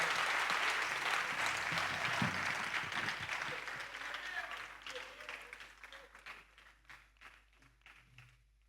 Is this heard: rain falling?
no